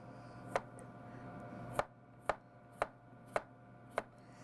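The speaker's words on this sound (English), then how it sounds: "I'm doing a nice rough chop on my potatoes" Six sharp knife chops cut through potatoes on a board, evenly spaced after a single early strike, crisp and close over a steady low kitchen hum.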